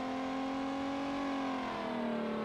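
A car engine in a video game revs with a smooth sustained whine that rises and then slowly falls, loud and steady with no talk over it.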